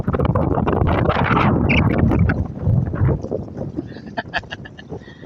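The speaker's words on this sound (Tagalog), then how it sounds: "Grabe ang hangin, Amihan." A strong Amihan wind buffets the microphone at sea during a fishing trip off Bataan, a loud continuous roar that eases toward the end, with voices under it.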